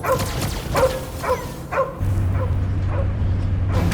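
Cosmo the dog from the Guardians of the Galaxy video game lets out a quick run of barks and yips over the first couple of seconds, then gives way to a steady low hum.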